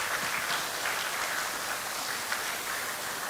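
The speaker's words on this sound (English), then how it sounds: "Can we just all give him a round of applause?" Festival crowd at an outdoor Hmong community event gives a steady round of applause, a continuous hiss of many hands clapping at moderate loudness with no speech.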